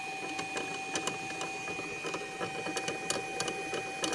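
A magnet spinning and wobbling under low three-phase power: a faint, steady electric hum with soft rapid ticking and rattling pulses, like a small mechanism running, heard alone.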